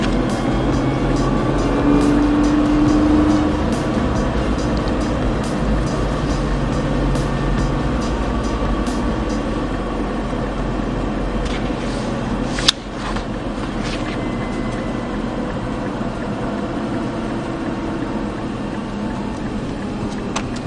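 A car cruising steadily around a race circuit, heard from inside as a loud continuous engine and road drone with a brief click partway through; no talking.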